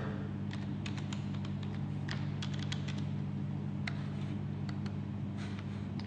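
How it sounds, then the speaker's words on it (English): Password being typed on a Microsoft pressure-sensitive keyboard: a quick run of light, irregular key clicks close by over a steady low hum, with no talking. "using Microsoft pressure sensitive keyboard, I'm going to type in the password"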